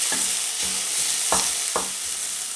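Onions seasoned with salt and sugar fry in a pan, with a steady sizzle under four distinct scraping strokes of a spoon stirring them, close and fairly loud.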